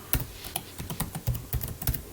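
Keys clatter on a computer keyboard while text is typed into PowerPoint, a quick irregular run of close, crisp clicks and taps with small pauses between bursts.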